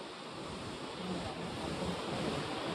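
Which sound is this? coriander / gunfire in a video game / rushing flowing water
rushing flowing water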